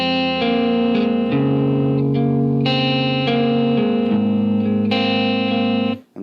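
Electric guitar through a Helix/HX processor strums the opening of a song, a sequence of sustained, heavily distorted chords, each ringing out before the next change, loud and close with no talking.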